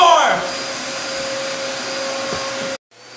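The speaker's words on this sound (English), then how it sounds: "You can vacuum the blanket!" A Hoover Elite Deluxe Rewind Megacharge Swifter vacuum cleaner runs with a loud, steady whine and airflow roar, starting with a surge and then cutting off sharply just before the end.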